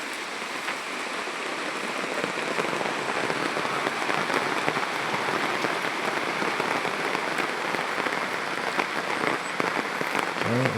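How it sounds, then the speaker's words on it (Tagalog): Steady rain pours onto surfaces at a rural property in Liliw, Laguna, a dense, even hiss that holds at a constant level throughout, with no voices heard. "Inabot lang tayo ng ulan."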